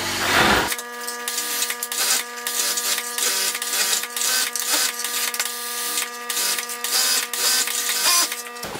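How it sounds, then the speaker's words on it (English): A Pegasus 3-thread overlock sewing machine trims and stitches fabric for a dog carrier bag, starting up after a brief pause and then running in a fast, loud, continuous mechanical rattle with rhythmic stitching pulses. "So we're using this Pegasus overlock. It's a 3-thread overlock"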